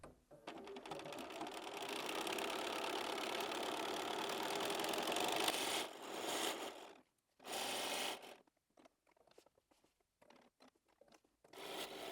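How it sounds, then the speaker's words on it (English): A sewing machine stitches a fabric heart cushion, running in one long continuous whirring burst, then stopping and restarting in short bursts with quiet gaps between, close and clear, heard alone. "So I'm just going over to the sewing machine to sew it."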